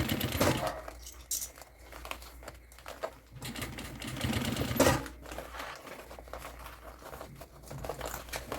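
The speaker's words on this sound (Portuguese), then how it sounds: "É só você costurar em cima da última costura aqui, ó." Sewing machine stitching a fabric zip bag, a rapid mechanical chatter running in uneven bursts with short pauses, plus occasional fabric rustling handled close by.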